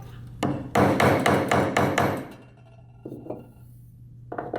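A half-inch chisel is struck to cut mortises in wood for a Frank Lloyd Wright-inspired stool: about six sharp, evenly spaced blows close by, then a pause and a couple of softer knocks.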